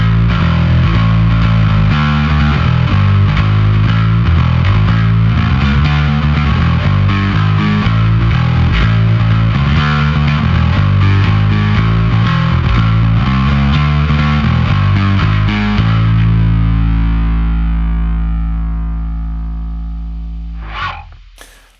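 Heavily distorted, fuzzy bass guitar through a Trondheim Audio SkarBassOne pedal at full saturation, playing a busy riff continuously, loud and dense, ending on a sustained note that fades with a brief click.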